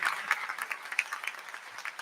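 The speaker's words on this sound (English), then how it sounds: "Let me give another round of applause to Mr. Ron Daly." An audience at a university convocation gives a round of applause, a dense burst of many hands clapping from a crowd that fills the short stretch without any talk.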